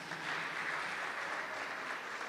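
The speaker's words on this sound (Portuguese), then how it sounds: "Vamos aplaudir a Jesus." A congregation applauds in church, a soft steady wash of clapping that sounds somewhat distant and low in level, with no distinct single claps standing out.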